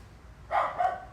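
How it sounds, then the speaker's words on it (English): A dog gives two quick, fairly close barks in a kitchen, standing out clearly above a quiet background. "Excuse the dog."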